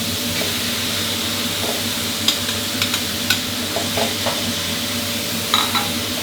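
Minced pork stir-fried with pickled bamboo shoots in a pan, a loud continuous sizzle broken by repeated scraping strokes and light clinks of the spatula against the pan.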